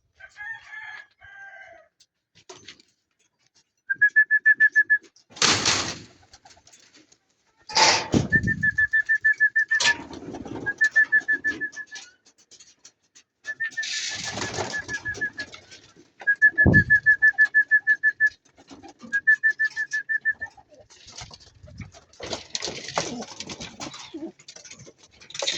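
Racing pigeons back from an 85-kilometre training toss from Tadlok, Magsaysay, calling in short repeated bursts of bright, regular notes, near and fairly loud, with rustling and thumps between the calls and no talk.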